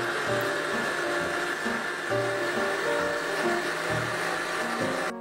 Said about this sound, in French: dans la cuve d'un robot ou dans un saladier, vous y mettez les œufs, le sucre en poudre et vous mélangez le tout jusqu'à faire mousser l'ensemble